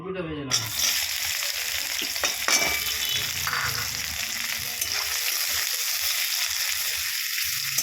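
Onions hit hot oil in a pan while making Bengali ghugni, giving a loud, steady sizzle and crackle with occasional stirring scrapes, no talking.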